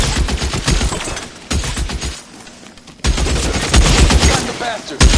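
Rapid gunfire bursts from a shootout in the video game L.A. Noire, loud and dense, with volleys of shots clustered in two heavy stretches separated by a quieter lull.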